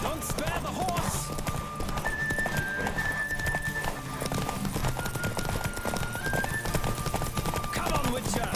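Galloping horse in a Witcher 3 race, fast rhythmic hoofbeats pounding steadily throughout, mixed with game music and occasional spoken voices.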